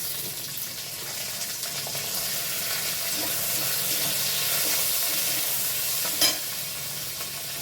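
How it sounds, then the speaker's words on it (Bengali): Chopped garlic and onion fry in white oil with a steady, loud sizzle that holds evenly throughout, with a brief sharper crackle near the end and no voices. "এই রান্নাটা আমি সাদা তেলেই করছি। প্রথমে দিচ্ছি রসুন কুচি, এরপর দিচ্ছি পেঁয়াজ"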